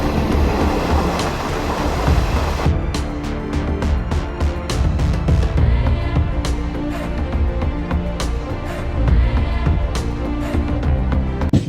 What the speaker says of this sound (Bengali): বর্ধমান স্টেশন থেকে কিন্তু ট্রেনটা ছাড়লো